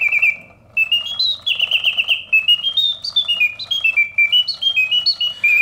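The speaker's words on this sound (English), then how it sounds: "a vintage Reuge double singing bird cage, let me turn this off here" A vintage Reuge double singing bird cage automaton sings a continuous mechanical birdsong of rising and falling chirps and warbles, loud and close, with a faint mechanism hum beneath.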